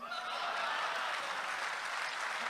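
A mushaira audience applauds steadily, a dense wash of clapping that stays even and sustained throughout without pause.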